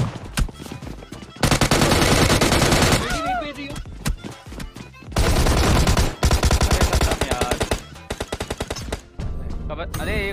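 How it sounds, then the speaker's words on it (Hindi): Shotgun fire in a shooting video game comes in loud, close bursts of rapid blasts separated by short gaps, with rattling repeated shots toward the end. "अरे यार ये शॉटगन"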